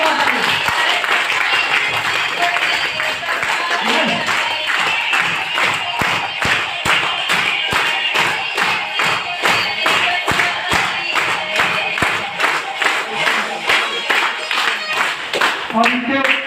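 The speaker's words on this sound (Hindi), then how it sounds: "तो आपकी जबरदस्त ताली के बीच I invite diamond star mister Jayaprakash ji" Audience at an event in a hotel in Purnia applauding to welcome a guest onto the stage, loud sustained clapping with rhythmic claps growing in unison, a voice speaking over it.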